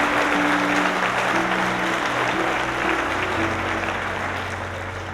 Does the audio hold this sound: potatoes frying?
no